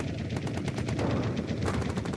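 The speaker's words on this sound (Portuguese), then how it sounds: "os fuzileiros se encontravam com uma rajada de tiros" A loud burst of machine gun fire from a World War II battle between US Marines and Japanese forces on Iwo Jima, with rapid repeated shots crackling continuously and densely for about two seconds, without talk.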